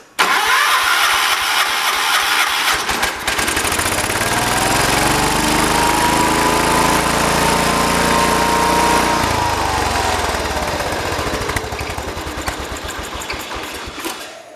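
A John Deere 212 lawn tractor engine cranks and catches, then runs loudly and steadily up close, its pitch rising and settling before easing slightly toward the end.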